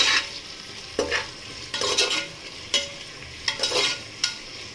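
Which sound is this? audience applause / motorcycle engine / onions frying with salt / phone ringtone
onions frying with salt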